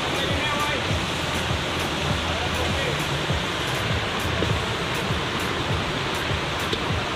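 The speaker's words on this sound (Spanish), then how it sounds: "Comenzó a llover, como es normal aquí en la loma." Steady rain falling outdoors on a hillside during open-air cooking, a dense, even hiss of drops that holds constant and loud throughout with no pauses.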